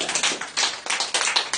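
A church congregation at a Sunday service claps for the Lord, a dense burst of many hands beating in uneven surges, loud and close, with no talk over it.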